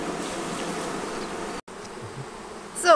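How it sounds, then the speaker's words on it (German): Honeybees buzz around small mating nucs being stocked with queens, a steady close hum with a brief dropout and a louder individual bee passing near the end. "Sind ja jetzt Bienen da."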